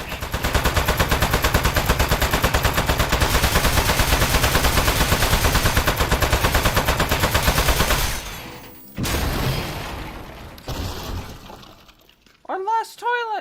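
Rapid gunfire and shattering impacts from the video game Aperture Desk Job fill the first eight seconds loudly and densely, followed by quieter mechanical effects and rising electronic tones near the end.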